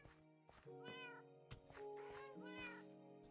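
Cats in the Minecraft video game meowing, several short tonal meows in quick succession, clear and close, with a faint voice briefly underneath.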